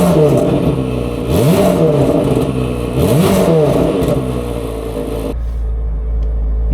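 A car engine revs twice in quick rising-and-falling bursts, loud and close, then settles into a steady low idle rumble.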